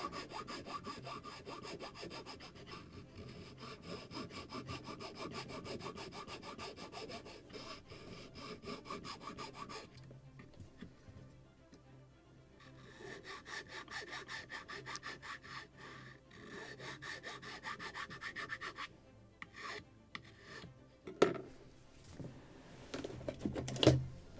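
Sandpaper rubs back and forth on a small wooden part of a Midwest 1:24 scale Sakonnet Daysailer model boat kit. The strokes are close, steady and rhythmic, with a brief pause partway through and a few sharper knocks near the end.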